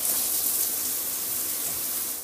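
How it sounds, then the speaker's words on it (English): A rain shower head in a newly installed bathroom pours water in a steady, close, broadband hiss that stays even for a couple of seconds before cutting off abruptly. "Then there's a rain shower."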